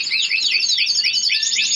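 Pet birds inside a house chirp in quick, repeated high tweets, close and fairly loud, with no voices over them.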